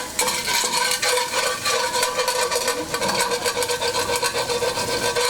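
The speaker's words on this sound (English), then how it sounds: "I'm going to get the bacon nice and crispy" Bacon crisping in a pan with rosemary gives a dense, steady sizzle and crackle, close and continuous throughout with some stirring scrapes and no talk.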